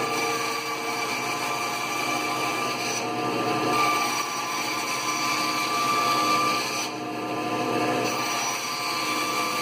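A band saw runs and cuts through wood, giving a steady, loud mechanical whine with slight swells in pitch and load as the blade works, with no voices.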